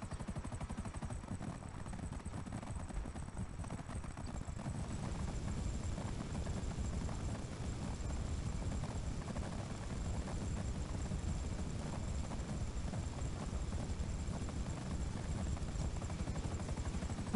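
A helicopter in GTA V Online drones with a steady, dense rotor and engine roar that holds loud and unbroken throughout, with no voices over it.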